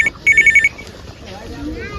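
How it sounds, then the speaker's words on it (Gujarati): A telephone rings in a home during a Gujarati comedy sketch, giving one short electronic trill followed by a longer pulsing burst of rings, close and loud, then stopping as faint background sound continues. "ફોન આવ્યો."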